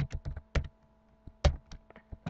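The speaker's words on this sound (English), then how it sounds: "Now we can start typing the code." Code typed on a computer keyboard, a few scattered key clicks and taps at close range, irregular and sparse with brief pauses between strokes.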